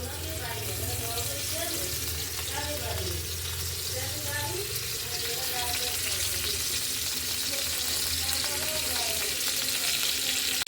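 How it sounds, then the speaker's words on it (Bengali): Onions fry in a little oil in a pan with beef fat for a chana dal dish. A steady, close sizzle and crackle runs throughout, with a voice talking over it. "তার সাথে পেঁয়াজ দিয়ে নিচ্ছি, অল্প একটু পেঁয়াজ দিয়ে নিচ্ছি। পেঁয়াজটা আমি ভাজা ভাজা করবো"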